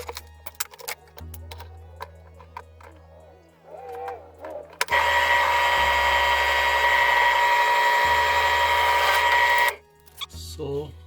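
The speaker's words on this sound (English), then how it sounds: "you remove this switch and drill the holes here" A power drill whirs loudly and steadily for about five seconds, drilling holes for a switch and push button, starting and stopping abruptly, with a person speaking and light handling noises before and after.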